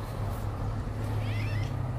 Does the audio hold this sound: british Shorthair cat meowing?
yes